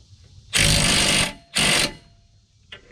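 An impact wrench with a swivel socket tightens 17mm rear brake caliper bracket bolts on a 2012 Nissan Rogue 2.5 S, giving two loud, close rattling bursts of about a second and a third of a second, followed by a faint short clatter.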